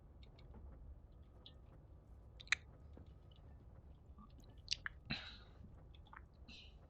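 Salsa verde Doritos chips are crunched while eating, giving faint, close, scattered crisp snaps and clicks over a quiet background, with no talking.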